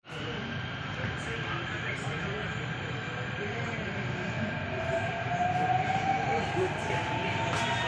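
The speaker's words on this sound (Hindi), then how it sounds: "हम बैठ चुके हैं मेट्रो के अंदर" A metro train, heard from inside a carriage, runs with a steady, loud rumble and a high electric whine, the sustained rolling noise filling the whole stretch.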